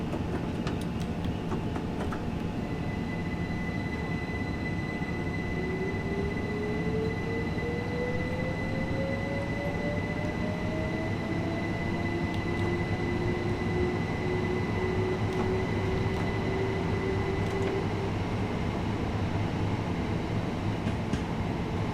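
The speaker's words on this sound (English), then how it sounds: "The train's ready to depart." A train in Train Sim World departs, rolling steadily with a constant low rumble and hum, a rising tonal whine gliding upward as it gathers speed, no voices.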